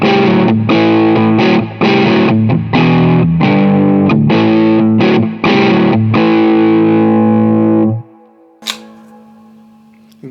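Electric guitar plays through a Victory DP40 amplifier boosted by a Tube Screamer pedal, giving a loud, driven, distorted chugging riff of choppy chords that stops abruptly, followed by a sharp click and faint hum.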